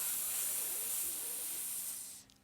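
A voice makes a long, breathy hiss to imitate an angry cat in a children's rhyme. The hiss is loud and steady for about two seconds, then fades out abruptly.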